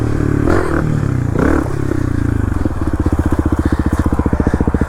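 A dirt bike at a jump spot, engine revving hard with bursts of throttle, then settling into a loud, rapid pulsing chug as it lands and rolls on, close to the listener.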